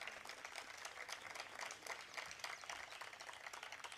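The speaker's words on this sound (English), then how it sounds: "put your hands together for a big round of applause for Team Literati" An audience claps steadily for a literature festival team, dense and even throughout, heard at a distance in a large hall with no voices.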